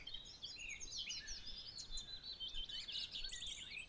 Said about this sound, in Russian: нежные трели птиц